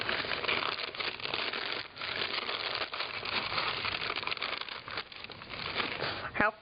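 Crumpled watercolor paper crinkling steadily up close, a dense, continuous crackly rustle that lasts throughout, with a few brief pauses and a louder crunch near the end.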